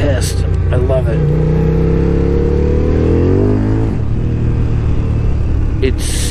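Suzuki TL1000R motorcycle engine under riding, a loud steady rumble with rising revs that dip and settle midway, drowned in heavy wind roar, with a voice briefly heard.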